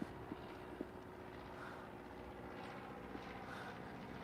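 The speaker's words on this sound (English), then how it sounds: "That plane is gliding slowly." An airplane passes overhead, a steady distant droning rumble that holds for several seconds, with a few faint clicks on top.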